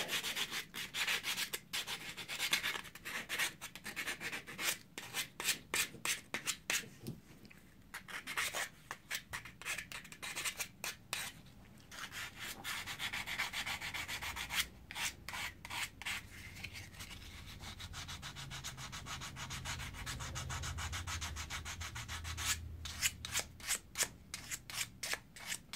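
Sandpaper scuffs rapidly back and forth over an old edge tool's wooden handle, close dry rasping strokes in quick bursts with short pauses between.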